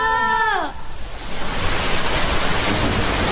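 A short tonal chirp fades out, then a loud, steady hiss of rain fills the rest, dense and constant like a heavy downpour nearby.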